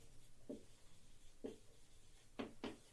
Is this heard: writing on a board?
yes